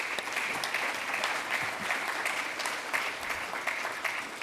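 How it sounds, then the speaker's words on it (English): Audience at a college convocation applauds steadily, a dense sustained clapping that fills the room from start to finish. "let's give everyone a hand of applause for that"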